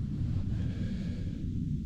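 Wind blows steadily over a frozen lake during ice fishing, a constant broad rush buffeting the microphone without a break.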